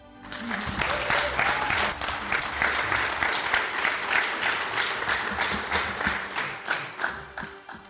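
An audience in a hall at a Titanic anniversary weekend aboard the Queen Mary applauds warmly to welcome speakers, steady dense clapping that holds for several seconds.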